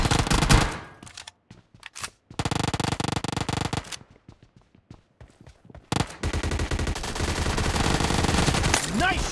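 Bursts of rapid automatic gunfire in PUBG Mobile gun game mode in a hangar map, loud volleys separated by short quieter gaps, with brief voices in between.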